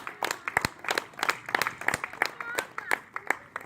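A church congregation claps along in a steady rhythm, the claps fairly distant and soft, with voices blending under the clapping.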